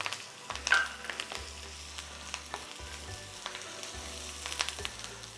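Curry leaves and onions frying in ghee for chicken ghee roast give a steady, close sizzle with sharp crackles and pops, alone without talk.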